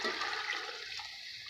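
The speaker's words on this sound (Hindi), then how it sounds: "मैं इसके अंदर तकरीबन 5 गिलास पानी के ऐड करूँगी।" Roughly five glasses of water poured into a pot for chana pulao, a steady rushing splash that stays loud and full throughout without any voices.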